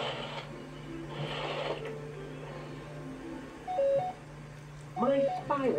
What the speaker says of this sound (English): My spy watch is beeping.